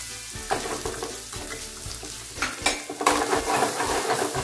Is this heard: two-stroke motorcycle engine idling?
no